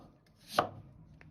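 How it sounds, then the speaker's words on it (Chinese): A kitchen knife cuts through a peeled potato into fairly thick slices, one crisp close chop on the board with a faint tap afterward. "接着來改刀，先切成片"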